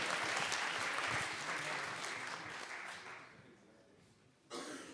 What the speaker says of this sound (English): Round of applause, please, for the impromptu people who have just been put on the spot just there.